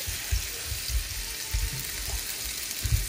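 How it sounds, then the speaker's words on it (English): Salmon fillets laid presentation side down in a preheated stainless non-stick skillet give a steady, soft frying hiss with low muffled bumps, heard up close with no talking. "We're gonna go ahead and add in our salmon"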